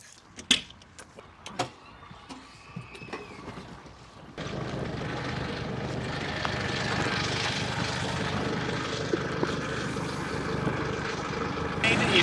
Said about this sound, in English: Right, bring the tractor in, please.